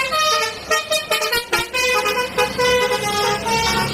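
Black toy telolet bus horn plays a loud, close, melodic series of tooting tones in short bursts, alone without talk.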